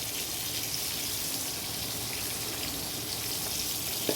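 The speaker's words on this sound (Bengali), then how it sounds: "জল দিয়ে দিলাম" Water pours into a pan of taro and potato curry, giving a steady, dense rushing and bubbling hiss that holds evenly throughout with no talk.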